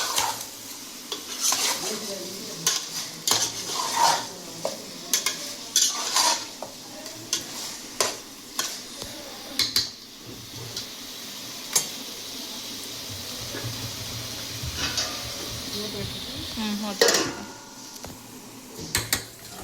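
Chicken for a home-style chicken curry stirred in a pan over a medium-high flame: steady sizzling frying with repeated scraping and clanking of a utensil against the pan, close and fairly loud, with no talking.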